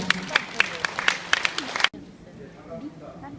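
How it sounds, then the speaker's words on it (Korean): Audience applause welcoming a speaker at a launch presentation for a housing redevelopment project, a brisk burst of scattered clapping that cuts off abruptly into a quieter room where a voice speaks. "자, 여러분들 뜨거운 박수로 맞아주시기 바랍니다."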